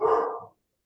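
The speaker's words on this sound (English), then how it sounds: "that's my dog" A single dog bark, fairly close and moderately loud, a short sharp burst that ends abruptly with no speech over it.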